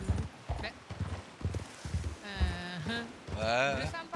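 Horse hooves clip-clopping in a western video game, a steady close rhythm of hoof beats with a whinny partway through and voices talking over it.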